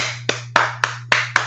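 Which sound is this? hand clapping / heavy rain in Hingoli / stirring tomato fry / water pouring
hand clapping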